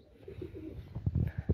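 Pair pigeons cooing on a rooftop loft, close soft throaty coos that build into a rhythmic series of low pulsing calls, with faint background hum and no talk.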